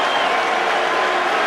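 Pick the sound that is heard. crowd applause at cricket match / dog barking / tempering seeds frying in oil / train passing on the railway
crowd applause at cricket match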